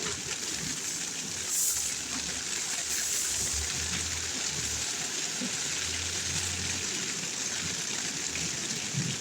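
Water gushing and splashing as it is pushed off a sagging tent roof during steady rain, a broad continuous wash of rainfall with a few louder spills, all close by.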